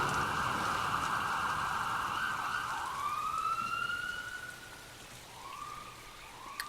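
A wailing video game siren rises and falls, loud at first and then fading, over a steady background hiss like rain.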